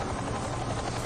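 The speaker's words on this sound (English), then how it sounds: "Strong-ass helicopters." Helicopter rotor noise in an episode of the Hellsing anime, a dense, continuous throbbing roar that stays loud and close for the whole short stretch with nothing else over it.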